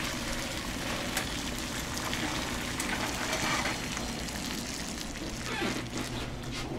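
Liquid is poured into a Swartzbaugh Conservo Toledo cooker holding a country ham. It makes a continuous, fairly quiet gushing rush with faint splashy texture throughout and no speech.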